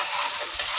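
Bay leaf, cardamom and cinnamon stirred in hot oil in a pan give a brief, dense sizzle with a low scraping stir, close and fairly loud.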